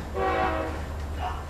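A train passing with a brief horn blast over a low rumble of rolling cars, moderately loud and with no talk.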